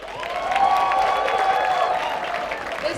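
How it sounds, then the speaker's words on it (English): An audience at a burlesque stage show applauds the event sponsors with sustained, fairly loud clapping and some crowd noise, and a faint tonal sound runs underneath. "Please, a great big round of applause for our sponsors."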